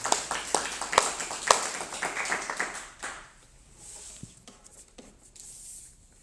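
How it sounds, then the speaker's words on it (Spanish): A church congregation claps together during a worship service, a loose burst of applause in a reverberant hall that fades out after a few seconds, leaving scattered claps and room noise. "este aplauso es para ti"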